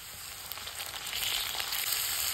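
Garlic sizzles and fries in hot oil for a Bengali home-cooked pabda fish curry, a steady close crackling hiss that builds slightly and runs without pause and with no voices.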